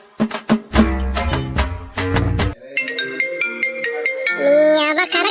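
A melodic phone ringtone plays loudly for several seconds, a rhythmic electronic tune with stabbing chords giving way to a brighter repeating melody, with no voices over it.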